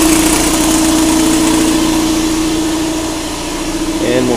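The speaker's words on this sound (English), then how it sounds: "We'll turn the pump on." A pump running in a PCB fabrication setup, a steady loud mechanical hum with constant vibration throughout, briefly shifting near the end.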